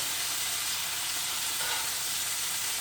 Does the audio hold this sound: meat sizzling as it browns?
yes